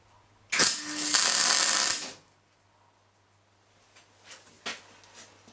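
Tack weld placed on steel stair stringers: a single sharp crackling burst lasting about a second and a half, loud and close, followed by quiet with a few faint clicks and taps.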